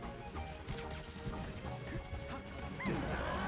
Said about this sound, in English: Great forward smash